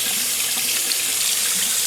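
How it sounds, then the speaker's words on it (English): Tap water runs steadily into a sink during handwashing in a home kitchen, a close, loud, continuous splashing rush with no talking. "Wash hands."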